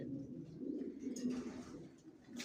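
Racing pigeons coo softly in low, rolling murmurs, a continuous gentle burble with faint rustles and flutters in the background.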